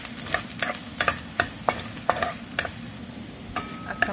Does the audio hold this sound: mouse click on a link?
no